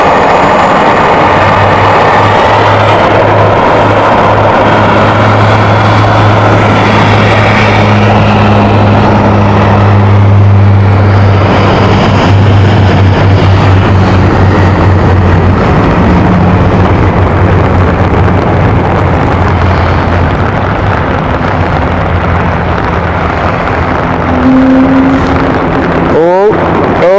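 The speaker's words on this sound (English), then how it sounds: "The noise you can hear is an A220 of ITA." An ITA Airbus A220 at London City airport makes a loud, sustained jet engine roar that swells and holds for a long stretch, a broad rumbling noise heard alone.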